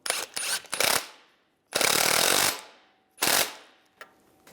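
Three bursts of rapid ratchet clicking as a nut is snugged on a 2007-2013 Chevy Silverado 1500 front shock, each run of clicks close and loud, separated by short pauses, with a final single click.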